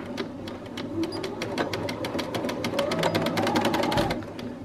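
A sewing machine runs steadily through a backstitch at 2.5 stitch length, its needle thumping in a fast, even rhythm close by, with no pauses for nearly five seconds.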